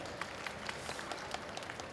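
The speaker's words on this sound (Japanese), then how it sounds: "皆さん大きな拍手でお迎えください。" Audience applause welcoming contestants at a Hyper Yo-Yo festival long sleeper championship final, a steady wash of many hands clapping from a crowd, evenly sustained throughout.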